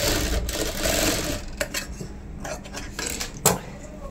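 A sewing machine runs a straight stitch along the waistband belt of a dhoti, a quiet steady mechanical whir broken by a few small clicks and knocks of handling fabric.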